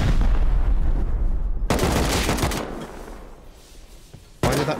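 A rocket launcher fires in a modded raid-and-PvP survival video game, a sharp loud blast breaking in after a low rumble, followed by a fading roar and a second burst at the end.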